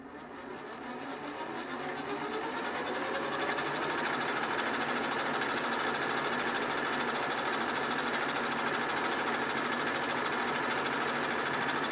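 A small lathe spins up with a chuck, a center drill in the chuck and a dial indicator on a stand, settling into a steady, loud mechanical whir and hum that runs unbroken with no talk.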